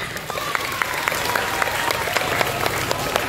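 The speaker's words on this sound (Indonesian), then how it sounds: "Tepuk tangan untuk anak-anak." An audience at an Indonesian school or community performance claps steadily for children, a dense patter of many hands at moderate level with a few sharper claps standing out, no speech over it.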